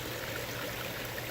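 Steady, soft rush of water running from showers into a garden pond, a continuous even splash with no talk.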